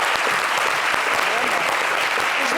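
Applause for a live performance on a show in Côte d'Ivoire rolls steadily throughout, a dense crowd clapping with some voices underneath.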